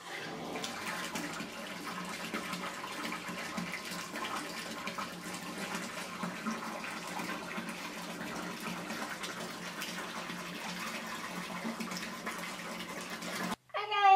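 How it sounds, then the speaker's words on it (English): A tap fills a bathtub with water, giving a steady, even gush that runs throughout before cutting off abruptly near the end. "So I'm gonna fill up a tub the rest of the way and hop on in"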